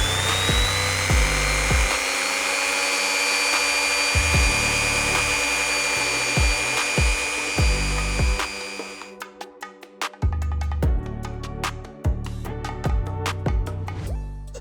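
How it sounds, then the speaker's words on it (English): A small rotary grinding tool works the snapped end of a steel acupuncture needle, a loud continuous high whine broken by repeated brief dips and touches as the tip is shaped, with no talking. "I'm just going to grind the end a little bit."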